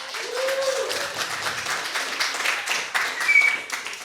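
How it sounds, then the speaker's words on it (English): Scattered applause from a panel audience at a talk in Cork, a few seconds of moderate clapping that swells slightly toward the end, with a brief voice or tone over it. "Give a big round of applause, everybody"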